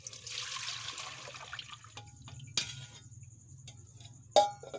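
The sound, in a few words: milk being poured into a pan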